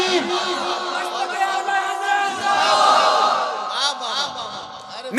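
A large crowd at a religious gathering roars a loud chanted response to the Naara-e-Takbeer call, many voices merging into a sustained, reverberant shout that swells and then fades.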